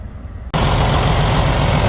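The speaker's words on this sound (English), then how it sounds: "The engine is running now, nice." A 2019 Freightliner Cascadia truck engine starts and settles into a steady, loud diesel idle right up close. It follows a short stretch of quieter ambient noise at night beside Teterboro Airport in New Jersey.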